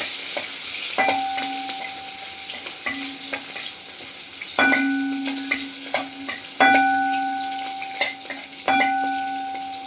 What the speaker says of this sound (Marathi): आता मिरची पण तळल्यासारखी झाली